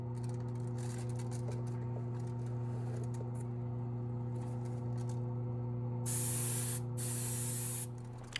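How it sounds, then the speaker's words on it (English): An airbrush sprays weathering paint onto an HO scale DASH-9 model locomotive, a faint hiss over a steady compressor hum that swells into a louder continuous spray burst near the end. "So here you can see I have the airbrush angled down as opposed to straight on."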